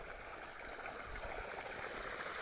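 Irrigation water runs from a T coupling in a farm field, a faint continuous gurgling trickle with a soft, steady flow throughout.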